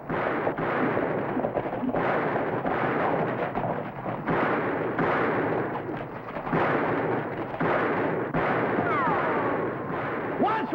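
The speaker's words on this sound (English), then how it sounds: "Watch which way you're shooting" Gunshots from a Western shootout, loud booming reports mixed with shouting voices and continuous action noise throughout, with dense overlapping blasts rather than clean isolated shots.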